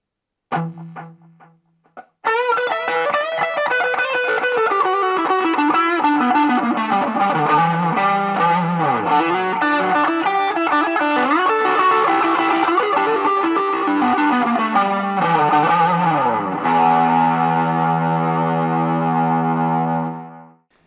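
A Jet JT300 Telecaster-style electric guitar with heavy distortion and modulation effects plays a sustained, wavering phrase, loud and close, ending on a held chord that fades out.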